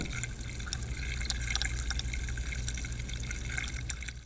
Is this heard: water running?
yes